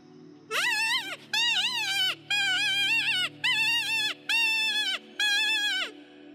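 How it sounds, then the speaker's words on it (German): Six loud, quavering squeals in a row from a wooden rabbit distress call lure, each shrill cry lasting about half a second with brief gaps, no other sounds. "Die Kaninchenklage"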